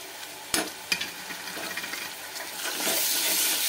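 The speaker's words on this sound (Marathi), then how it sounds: "आता घालून घ्यायचा आहे टोमॅटो प्युरी" Tomato puree from a large and two medium tomatoes going into a frying pan for shahi paneer, with a couple of sharp taps, then stirring and a rising, steady sizzle of wet frying close by.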